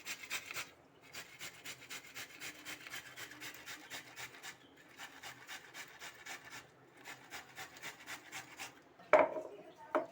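Ingredients for a Bengali vegetarian potato curry are ground on a stone slab, giving a rhythmic run of close rubbing strokes with short pauses and a sharper knock near the end.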